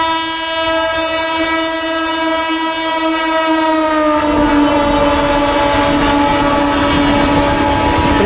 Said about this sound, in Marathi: ट्रेन आली आहे, तिकडून माणसं क्रॉस करतायत.